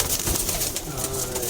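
Pigeons, including fancy breeds such as Lal Pari, coo softly and repeatedly up close, their low burbling calls overlapping against a busy background.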